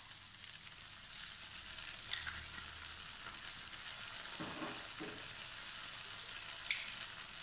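Eggs frying in a pan as chili sauce goes in: a continuous soft sizzle with a couple of louder spatters and stirring scrapes.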